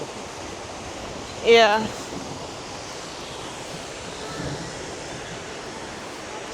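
The waterfall at Paddy's Falls gives a steady, broad rushing roar that runs unbroken, while a person briefly speaks over it.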